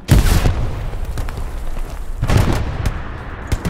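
Grenade blasts in the WWII shooter Hell Let Loose: two loud, close booms a couple of seconds apart, each with a rumbling tail over background battle noise.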